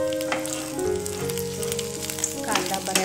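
Onion and then dried coconut dry-roasting in a pan, a steady crackling sizzle with faint scraping, continuous and close, with a low tonal hum running underneath throughout.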